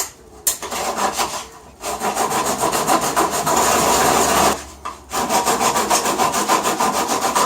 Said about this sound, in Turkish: Bu arada testerem gerçekten köreldi.